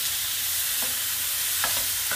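Peeled tomato with caramelized julienned vegetables sizzles in a pan, a close, even hiss with a few soft stirring scrapes and no voices.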